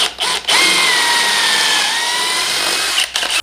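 A close, loud power drill runs continuously through wood for nearly three seconds, with brief stops at the start and end, boring a dowel hole with a Woodpeckers MT dowel jig.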